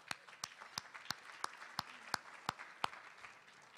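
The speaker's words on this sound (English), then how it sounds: "I want, first of all, to ask everybody to give themselves a round of applause" Sparse, distinct hand claps ring out at an even, slow rhythm, a small audience applauding faintly in a large room with little other sound.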